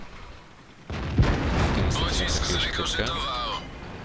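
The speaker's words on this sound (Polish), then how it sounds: "Pechowy strzał." Tank gun shot in a tank video game, T-43 tank battle: a sudden heavy boom about a second in, followed by rumbling, crackling game effects, under someone talking.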